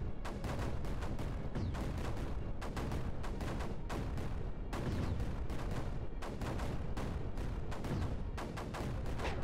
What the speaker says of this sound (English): hopefully those mortars will be enough to take that down